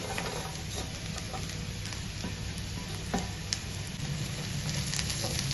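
Onions and masala frying in a pan on low gas for Mangaluru-style chicken pulimunchi, a continuous soft sizzle with occasional stirring scrapes and light clicks, close and fairly quiet.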